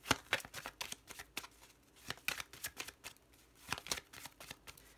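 Playing cards, a Petit Lenormand deck, being shuffled and cut close by in a quiet room, with sharp riffling bursts and soft slaps recurring at an uneven rhythm.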